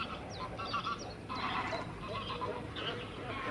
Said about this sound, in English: A few geese coming over.